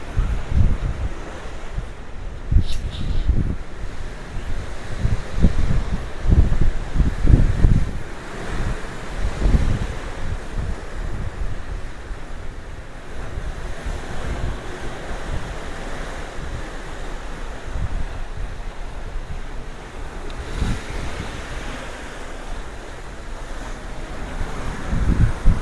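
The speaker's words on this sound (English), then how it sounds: "Man, this wind." Strong wind buffets the microphone on the open deck of the Mariner of the Seas cruise ship, with loud low gusts and rumbling bursts early on that settle into a steadier blowing roar.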